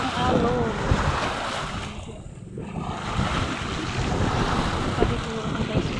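Steady, churning wash of ocean surf mixed with gusty wind noise, close and fairly loud, with a brief lull midway.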